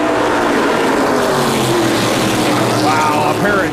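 Stock cars restart side by side at Riverside International Speedway in Nova Scotia, a pair of Dodges up front. A loud, continuous engine roar with passing whine fills the whole stretch.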